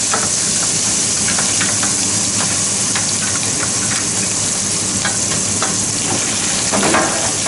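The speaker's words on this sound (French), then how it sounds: "Et là, je vais fortement colorer mes oignons." Onions and carrots sizzle loudly in a roasting pan with meat juices, a dense, constant crackling hiss that stays close and even, with no voices.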